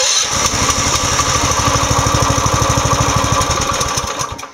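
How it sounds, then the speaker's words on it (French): A mini excavator's small engine cranks and fires into a steady, loud, rapidly pulsing run as its automatic choke engages, holding close and even for several seconds before cutting off at the end. "Donc on tourne la clé, il met le starter et il redémarre."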